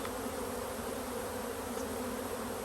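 A swarm of honey bees in a hive yard gives a dense, constant buzzing drone, even and unbroken, filling the whole scene at moderate volume.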